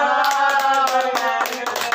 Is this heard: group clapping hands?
yes